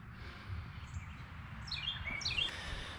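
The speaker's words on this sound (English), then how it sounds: "every time I'm out here filming, doing something, they always chirp like that" A few faint birds chirp outdoors beside a 1978 Camaro being inspected for restoration, with short high tweets clustering toward the end over low background rumble.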